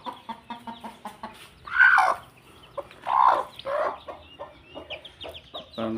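A broody hen that has just hatched chicks clucks in short repeated bursts, with a few louder squawks mixed in, close by and with no one talking.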